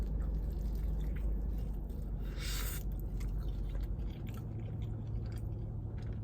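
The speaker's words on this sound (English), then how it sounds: "whenever like everything goes and you start chewing everything, it's such a nice bite altogether" Close, wet chewing of a San Diego style burrito with rice, guacamole, salsa and fries: soft squishy mastication over a steady low background hum, with one brief crunchier moment midway and no talk.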